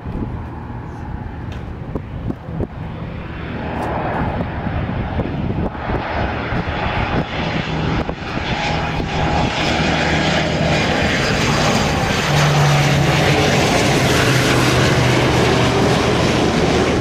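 A fixed-wing airplane touches down late on the runway at Santa Monica Municipal Airport, its engine roar building from moderate to loud and holding steady close by, with a wind-like rush throughout.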